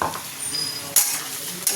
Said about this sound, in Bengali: আলুটা ভাজা ভাজা হয়ে গেছে, এবার এতে পোস্ত বাটাটা দিয়ে দেবো